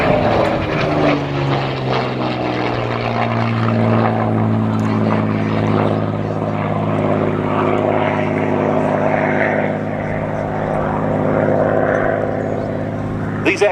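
Merlin-engined P-51D Mustang propeller fighter flying past, a loud continuous droning engine roar with a slowly shifting pitch, sustained throughout.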